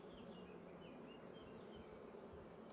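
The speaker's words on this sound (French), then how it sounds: "Je vous laisse en compagnie des abeilles 2 secondes." Honeybees hum steadily around beehive frames of newly assessed swarms, a continuous faint drone with a few higher buzzing insects weaving near and away, no voices.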